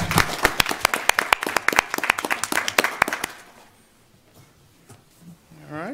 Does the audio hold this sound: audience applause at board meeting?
yes